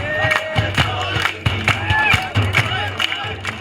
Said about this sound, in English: as the drumming starts, protesters at New Delhi's Janta Manta Observatory are clapping and singing